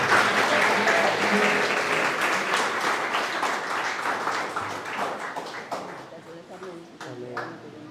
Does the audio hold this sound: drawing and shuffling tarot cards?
no